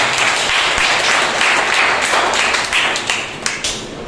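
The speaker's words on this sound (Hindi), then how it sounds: "दादी का भी जोरदार तालियों से स्वागत।" A church congregation at a Sunday morning service gives loud, sustained applause to welcome a grandmother. The dense, close clapping carries on for about four seconds with a few sharper claps near the end.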